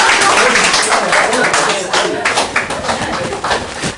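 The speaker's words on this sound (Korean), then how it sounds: "또 박수 한번 치십시오." A lecture audience claps together in a loud, dense burst that slowly thins out, with voices mixed in.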